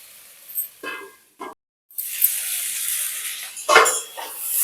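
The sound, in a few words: vegetables frying with spices in a pan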